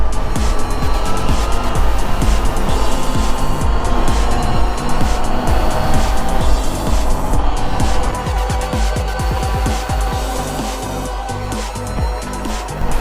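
A pack of Surron electric bikes and dirt bikes riding and pulling wheelies during a street ride-out in Miami, a loud, continuous roar of engines revving and passing close by, with no pause.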